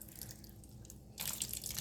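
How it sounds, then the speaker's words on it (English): Watermelon juice is poured from a hollowed-out watermelon into a bowl fitted with a strainer, a soft trickle that swells into a steady, close splashing stream partway through. "Then I'm going to pour it inside of the bowl."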